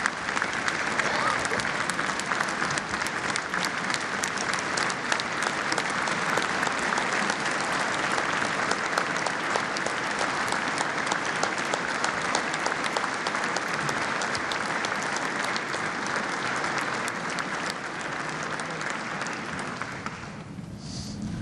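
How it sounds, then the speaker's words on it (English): Long, sustained applause from a large audience honoring the Teacher of the Year at the West Virginia State of the State address, dense and steady for about twenty seconds before tapering off near the end. "they clapped a lot more for you than they did me"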